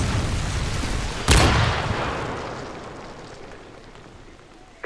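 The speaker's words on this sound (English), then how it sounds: "Friendly Predator missile inbound." A Predator missile strike in Modern Warfare 3 lands as one sudden, loud explosion about a second in. The blast follows steady, hissing battlefield noise and fades out slowly.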